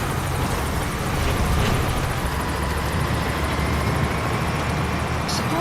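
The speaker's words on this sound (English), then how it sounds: "Support helicopter." A support helicopter arrives in a Metal Gear video game, its rotor roar a loud, constant broadband drone with a faint fluttering pulse that holds steady throughout.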